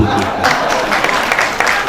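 Audience applause filling a hall at a provincial official-language commission convention in 2023, a steady crowd clapping with some cheering throughout the short stretch.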